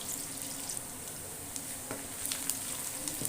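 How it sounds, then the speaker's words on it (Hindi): One onion frying in oil until golden makes a constant, even sizzle close by, with occasional light stirring clicks and crackles. "प्याज को हम उस वक्त तक फ्राई करेंगे जब तक ये थोड़ा सा गोल्डन ना आना शुरू हो जाए।"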